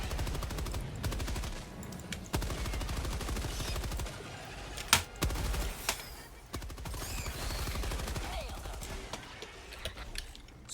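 Rapid machine gun bursts in Helldivers 2 crackle loud and dense across the whole stretch, broken by a few sharper blasts and short pauses, with game noise layered beneath.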